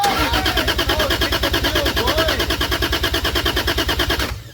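A turbocharged Lexus IS300 engine cranks with a steady, rapid, loud pulsing rhythm, a voice briefly audible underneath, before the sound abruptly cuts off near the end.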